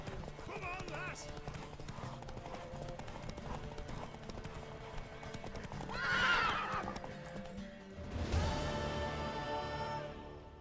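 Horse hooves clip-clopping at a gallop with a loud whinny midway and a second neigh near the end, in The Witcher 3 video game, with game voices and music underneath.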